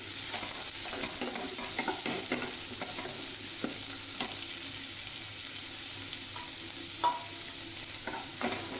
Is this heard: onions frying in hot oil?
yes